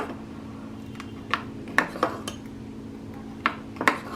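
A ladle stirs sprouted green gram dosa batter in a bowl, giving a handful of sharp metallic clinks scattered over a few seconds against a soft steady background, close by with no talking.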